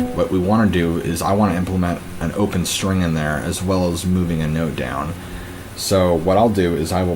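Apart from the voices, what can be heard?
None of the usual background noises is heard.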